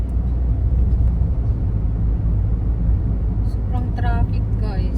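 Low, continuous rumble of heavy road traffic heard from inside a car, with a voice chatting over it toward the end.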